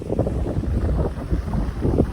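Strong sea wind at Cavite City beach buffeting the microphone in low, rumbling gusts, steady and loud with no other sounds standing out.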